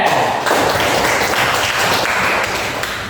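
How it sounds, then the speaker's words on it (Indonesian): A junior high classroom bursts into applause for a student, a dense, even patter of many hands clapping close by for about three seconds before easing slightly. "tepuk tangan untuk Angga."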